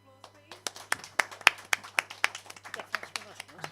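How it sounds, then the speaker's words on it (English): A small audience claps after a puppet show with a quick, uneven run of close hand claps, while a voice talks over part of it. "can we give these guys another round of applause, please?"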